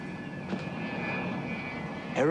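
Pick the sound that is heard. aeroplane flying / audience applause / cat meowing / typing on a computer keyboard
aeroplane flying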